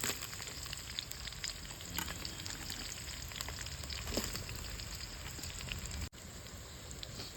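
Onions fry in hot oil with bay leaves in a home kitchen, giving a dense, continuous close-up sizzle with scattered pops and crackles and one short dip near the end, with no talking.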